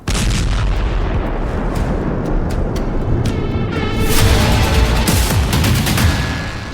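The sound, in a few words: explosion from jet crash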